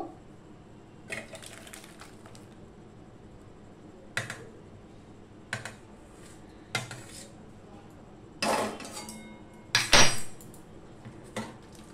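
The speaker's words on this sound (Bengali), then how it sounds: "এই ছাঁকনির মধ্যে আমি এই আমটা ঢেলে দেব।" Cooked green mango chunks tipped into a metal strainer in a home kitchen give a few sharp metallic clanks and clatters spread across the stretch, with quiet pauses between them.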